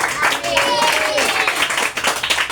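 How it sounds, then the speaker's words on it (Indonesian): Applause for a child at a church children's service, a dense patter of clapping filling the whole moment with broadband bursts, close and fairly loud, with voices mixed in. "Tepuk tangan bagi dia."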